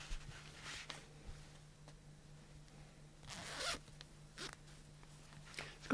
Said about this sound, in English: It's got a zip.